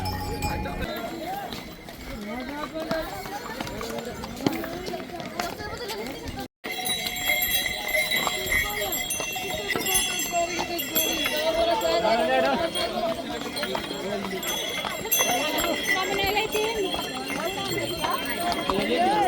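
Horses' hooves clip-clop steadily on the stony Kedarnath pilgrimage trail at a crowded horse stand, blended with the chatter of many people and someone talking close by.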